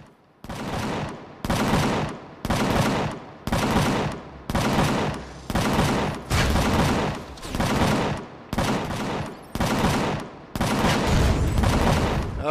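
Loud gunfire in the video game Empyrion - Galactic Survival comes in a rapid string of harsh, roughly second-long automatic bursts, repeating with short gaps and ending in one longer volley.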